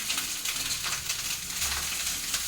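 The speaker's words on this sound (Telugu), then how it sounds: "ఫ్రైడ్ రైస్ కింద తాలింపు పెడుతున్నాను" Whole spices tempering in hot oil in a pan for egg fried rice, a steady close sizzle with a constant crackling hiss and no pauses.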